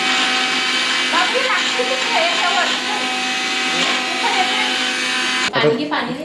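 A kitchen mixer grinder whirs steadily while blending fresh coriander into a paste during wedding preparations in a busy home kitchen, a continuous motor drone with voices chattering over it and a clatter near the end.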